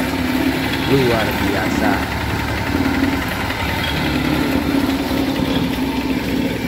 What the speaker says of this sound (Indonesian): yang dipadatkan dengan mesin baby roller Multipro.